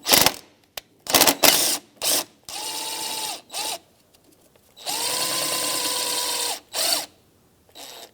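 Power tool, likely an impact or drill driver, snugging belt tensioner bolts on a 2004-2009 Subaru Outback, whirring in short close bursts with a longer steady run near the end, alone without talk.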